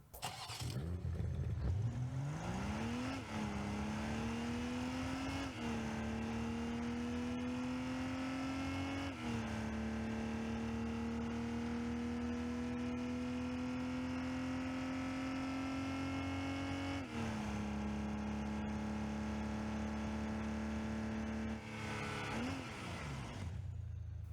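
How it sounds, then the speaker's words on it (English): BMW M240i engine from Rocket League revving steadily, a loud continuous drone that climbs in pitch at the start, holds with small dips, and winds down at the end, with no talk over it. "Here's a full demo of the engine audio."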